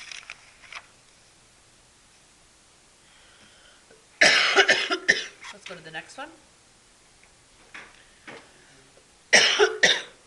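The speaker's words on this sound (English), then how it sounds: "I'm starting to cough more and more." A person in a classroom gives a few sharp coughs in bursts, with quiet pauses between, close to the microphone, and someone speaks briefly.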